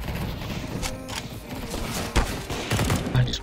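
Rapid bursts of gunfire crackle from a Counter-Strike: Global Offensive match, fairly faint and muffled, with a few sharper shots standing out and someone talking over it.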